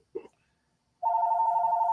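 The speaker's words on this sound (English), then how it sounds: "Phone never rings during the show." A telephone rings during a late-night live show, a steady electronic bell tone that starts abruptly after a brief short sound and carries on loudly to the end.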